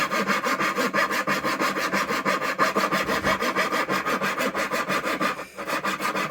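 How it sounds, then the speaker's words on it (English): A thin-kerf hand saw cuts a notch groove into a wooden breadboard end, a close, steady rhythm of rasping back-and-forth strokes at a quick even pace, with no talking. "In order to cut this notch out, I make a groove down."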